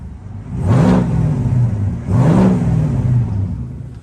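2021 Chevrolet Silverado Trail Boss pickup with a 6.2-liter V8 and aftermarket exhaust, revving twice from idle; two loud, deep throaty surges swell and fall back to a rumbling idle, heard up close with no talking.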